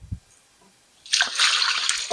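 Chicken stock pours from a container into a bowl of paprika, cumin, turmeric, oregano and olive oil marinade, a sudden loud splashing, gurgling stream after a quiet moment, continuing steadily to the end.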